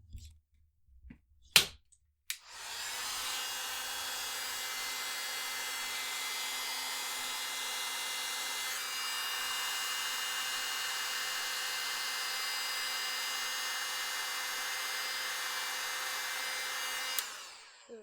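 A heat gun blows steadily for about fifteen seconds while heat-setting embossing powder on a paper lucky money envelope, a loud continuous whirring hiss that starts abruptly after a few faint clicks and cuts off sharply.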